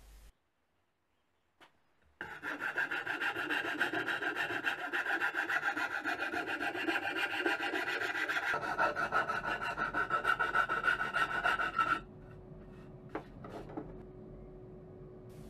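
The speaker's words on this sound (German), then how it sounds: "Die Feinarbeit erfolgt mit der Feile." A hand file rasps continuously over the wood of a birdhouse being built, a close, steady scraping of even strokes that lasts about ten seconds and then stops, followed by a few faint knocks.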